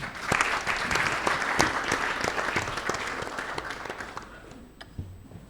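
An audience at a Miss RDCongo pageant show applauds the contestants, with lively clapping and distinct individual claps that gradually fade out to a quiet room.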